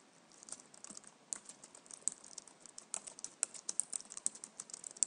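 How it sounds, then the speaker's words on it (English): Someone types on a computer keyboard in a quick, uneven run of crisp, close clicks that grow busier and louder toward the end, with no voices. "I have the option of typing in a message"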